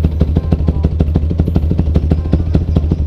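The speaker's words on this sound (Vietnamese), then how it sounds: "Đây là tiếng bô nè anh em." Yamaha Exciter motorcycle with its stock exhaust idling up close, a loud, even, rapid putter of regular exhaust pulses with a low steady rumble and no talking.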